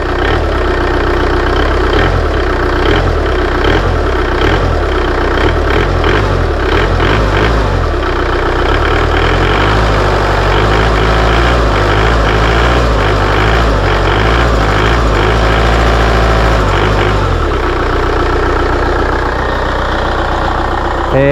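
A loud diesel engine fitted with an upgraded 12 mm rotor head and 8-hole nozzles rumbles, then is revved up and held at higher speed before easing back to a steady idle.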